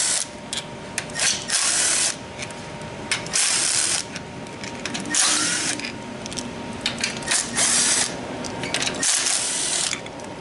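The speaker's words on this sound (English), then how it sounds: "So I'm going to start with removing the tail shaft housing." A ratchet clicks in quick bursts while bolts are backed out of the tail shaft housing on a 6L80 transmission, the sharp pawl ticking starting and stopping repeatedly with faint metallic clinks between.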